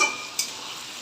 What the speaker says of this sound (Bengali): দেখুন আমার আলুটা এখানে ভাজা হয়ে এসছে